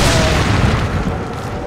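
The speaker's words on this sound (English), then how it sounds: "Right, I shot the TNT, I'm cool." A blast of TNT shot in Resident Evil 4, a loud broad roaring boom that fills the whole moment and slowly tails off, with no talk over it.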